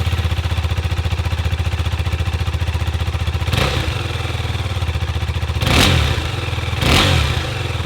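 A 2020 KTM 390 Adventure, a small-capacity adventure motorcycle, idles close by with a fast, even engine and exhaust pulse, then blips the throttle in three sharp revs, each a brief roaring rise that quickly falls back to idle.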